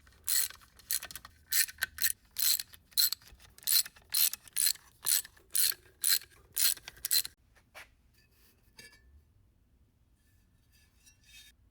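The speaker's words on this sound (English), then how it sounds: "Next thing to do is take this little pan off. So I'm going to get these bolts out." A ratchet wrench backs out 1/2 inch bolts from the small pan of a Spicer 18 transfer case on a 1948 Willys CJ2A, giving about a dozen short, sharp clicking bursts in steady succession, then near silence with a faint clink.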